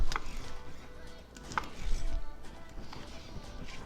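A knife slices through smoked baby back ribs from a Pit Barrel Cooker, giving soft cutting sounds with a couple of crisp taps on the board, close and unhurried with no talk.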